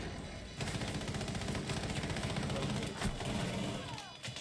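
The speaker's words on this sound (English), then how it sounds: "I believe Frenzy is in a gunfight." Rapid bursts of gunfire from a Rainbow Six esports match fill the whole stretch, dense and close, after a quieter opening half second, with a commentator's voice running underneath.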